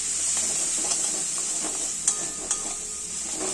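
Chopped tomato stirred into sizzling masala for Punjabi-style chole, a steady hiss of frying with a few soft clicks and scrapes of the spoon against the pan, close and continuous without any talk.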